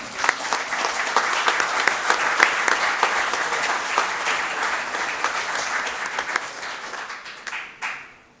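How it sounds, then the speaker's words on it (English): A large audience at a county board meeting breaks into sustained applause, dense and steady for several seconds before tapering off and stopping near the end. "Let's give them all another nice big round of applause."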